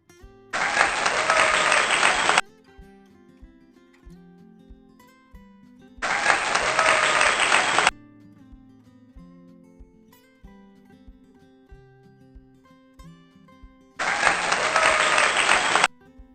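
Children clap their hands in a game, three separate bursts of brisk group clapping, each about two seconds long, separated by quiet stretches with soft music playing.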